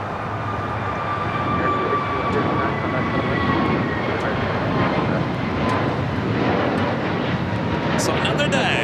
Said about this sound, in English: This is American Airlines 1659 taking off to Dallas-Fort Worth on an A321neo